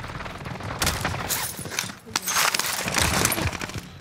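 Gunfire in a Warzone Rebirth trios match, dense bursts of rapid shots and cracks crowding the clip, loud and close with a brief lull midway, no talk.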